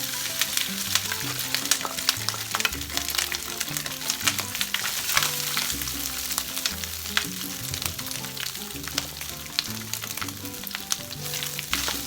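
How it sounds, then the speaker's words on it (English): Shredded beef brisket fries in an oiled skillet with a dense, continuous crackling sizzle and frequent sharp pops, close and fairly loud, alongside a low droning tone in the background. "we're going to heat up a skillet. I already added some oil and we're going to throw this in here"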